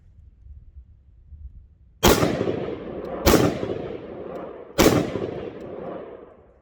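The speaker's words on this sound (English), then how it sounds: "Let's shoot it a couple more times, see what happens." Three loud, sharp gunshots ring out against an AR500 Level 3+ steel body armor plate in a plate carrier, spaced about a second apart, each with a short rumbling decay.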